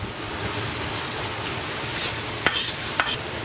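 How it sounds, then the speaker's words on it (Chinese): Pork belly, already seared for braising, is stir-fried in a wok, giving a steady close sizzle and rustle throughout with a couple of sharp clinks of the spatula near the end. "紧接着倒入刚才煸炒好的红烧肉， 翻炒均匀上色"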